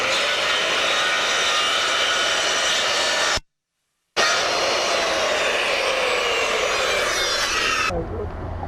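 Power saw cutting a replacement fascia board, with a loud, steady whirring whine. The sound breaks off completely for a moment, returns, and then winds down at the very end.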